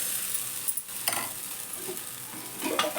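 Semolina dhirde batter fries on a pan with a bright, crackling sizzle, steady and close, with a few brief clinks and scraping touches along the way.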